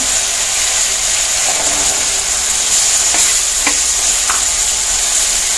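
Garlic frying in chilli paste for a dates pickle, giving a loud, constant close sizzle with a few soft scrapes of a stirring spoon.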